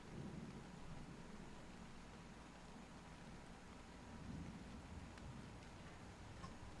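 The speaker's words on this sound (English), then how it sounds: "I'm really enjoying the sound of rain right now" Rain falling steadily, a soft, even wash of hiss that stays constant throughout, heard faintly at a distance with no talking.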